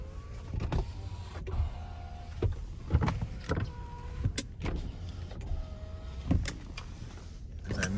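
The power windows of a 2012 Cadillac SRX run up and down several times, each one a whirring motor hum ending in a clunk as the glass seats, close and clear with no talk.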